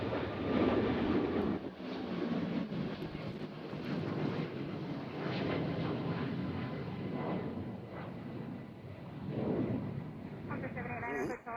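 A WestJet airliner departing Nashville International Airport for Calgary, a steady broad jet roar heard from a distance that swells and fades slightly over several seconds, with a voice talking briefly over it.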